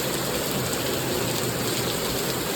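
Heavy rain in South Korea pours down in a dense, steady roar, loud and close with no breaks across the whole stretch.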